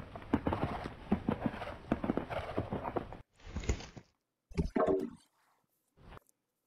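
Horse hooves clip-clopping in the Jumping Horses Champions video game, a rapid rhythmic gallop over a noisy backdrop that breaks off, followed by a few short separate bursts, moderately loud.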